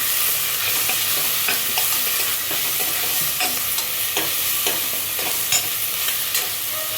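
Ginger garlic paste fries over a raised flame in a pan, a dense continuous sizzle with frequent light taps and scrapes from stirring, close and fairly loud.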